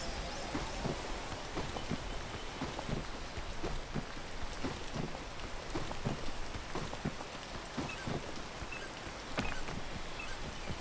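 Steady rain falls outdoors, a constant hiss of drops on surfaces with faint irregular taps, close and even throughout without talk.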